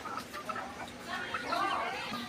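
Caged chickens clucking softly and intermittently over a steady low background, with a slight rise in the second half; no clear speech, just the birds.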